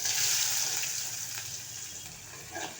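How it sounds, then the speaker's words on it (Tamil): Onion, tomato and chili sautéing in oil in a pan for an egg stir-fry, a steady close hiss of frying with soft stirring scrapes, fading slightly toward the end. "இதை நல்லா வதக்கிக்கோங்க"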